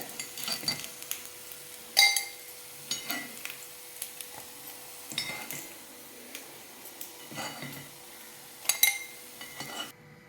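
Paniyaram lifted out of a pan with a utensil, heard as a series of light metallic clinks and scrapes spread irregularly across the stretch, fairly close and quiet, with faint frying underneath.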